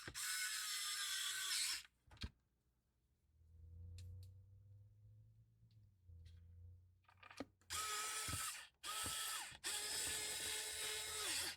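A screwdriver turns screws into a plastic Bluetooth speaker casing during a repair, producing faint ratcheting clicks and creaks. These are set between louder bursts of broadband noise at the start and end, with quiet stretches in between.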